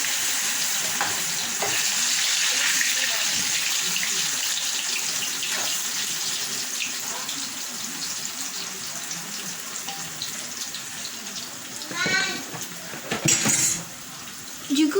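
Plantain pieces for alloco fry in very hot oil, making a steady loud sizzle throughout, with a few utensil clinks and stirring noises toward the end.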